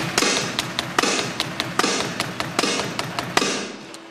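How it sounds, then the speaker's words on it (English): Electronic kick drum sample triggered on a Roland drum pad, sounding as a quick series of sharp, dry taps and thuds in an irregular rhythm, close and moderately loud with no talking. "Then for tracks like all of this, I've got the kick drum as well."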